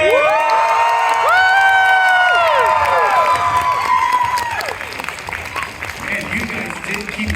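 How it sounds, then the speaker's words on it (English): A convention panel crowd breaks into loud applause and cheering, with whoops and shouts rising over the clapping, then settling into scattered claps and chatter. "Give them one more big round of applause, everyone."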